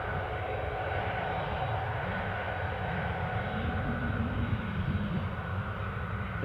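A Loganair airliner arriving from Aberdeen approaches Newcastle airport, its engines a loud, continuous drone with a steady broadband roar and a low rumble that swells slightly midway.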